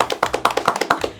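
A crowd of people applauds at the end of a hunting-permit quiz round, a brisk, fairly loud burst of overlapping hand claps with a quick, steady rhythm.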